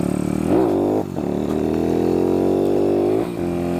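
A YCF SP3 pit-bike style motorcycle with a Twins Calvini exhaust line, engine running close and loud, droning at steady revs with a few quick throttle blips rising and falling.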